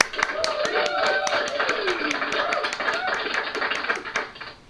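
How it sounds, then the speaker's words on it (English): A round of applause, heard as a fast run of sharp, evenly spaced claps. A voice talks over the clapping, and the claps stop abruptly near the end. "I want to give another round of applause."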